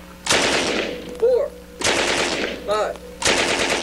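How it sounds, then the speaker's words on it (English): An automatic firearm fires in three separate short bursts, each a loud, close, rapid string of shots with a brief pause between bursts. A voice speaks quietly between them. "We hold the trigger down a little longer, you're going to get 2 rounds."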